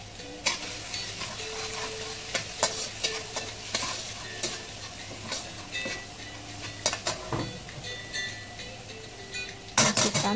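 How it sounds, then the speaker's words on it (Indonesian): Minced garlic sautéing in oil in a pan, a steady low sizzle broken by scattered scrapes and clinks of a utensil stirring, fairly quiet and close, with no talking. "Lalu kita tumis bawang putih yang udah dicincang. Tumis sampai wangi ya."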